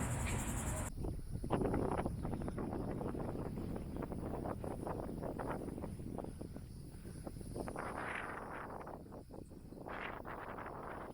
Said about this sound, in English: It's a little windy, but I'm going to try to be behind a tree now.